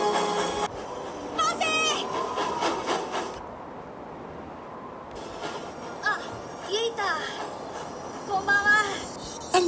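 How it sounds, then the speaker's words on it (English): The mail train runs in a Thomas the Tank Engine cartoon, a soft rolling rumble under a narrator and character voices, with music. "So Thomas took the mail train again"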